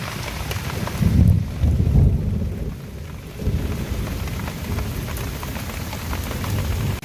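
Heavy mountain rain hissing steadily, with deep rolls of thunder rumbling through the first few seconds and again later, wind mixed into the downpour.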